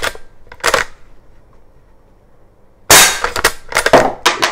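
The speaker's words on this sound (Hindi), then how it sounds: "चलिए मैं फटाफट फायर करने वाला हूं" A lever action rifle fires in rapid succession: a single sharp crack early on, a quiet pause, then a loud cluster of quick cracks and metallic clacks near the end.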